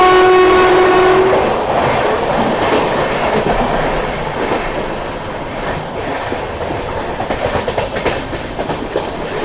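The Tejas Express in India running past a station near Goa, opening with a loud horn blast, then a continuous heavy rumble with rhythmic clickety-clack of wheels over rail joints, close and loud.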